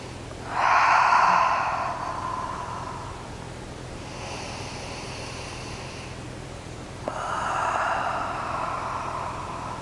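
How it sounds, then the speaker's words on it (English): Three deep breaths during a guided relaxation, each a broad airy rush with a loud first inhale and quieter ones after, close and alone with no talking. "We're going to take another 5 deep breaths"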